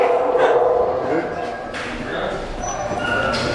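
Dogs bark and yip in an SPCA animal shelter, a busy kennel run holding bigger dogs, with several overlapping barks at moderate distance forming a continuous clamor throughout.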